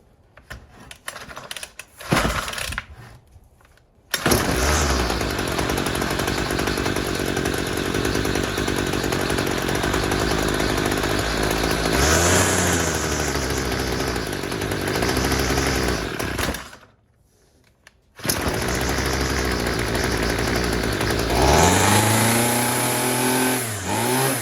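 A two-stroke weed eater, freshly repaired at the carburetor and fueled with 50-to-1 mix, sputters through a few pulls, then roars into a loud sustained run, cutting out briefly before restarting and revving up and down.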